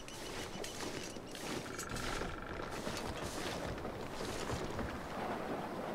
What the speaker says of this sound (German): das ist windig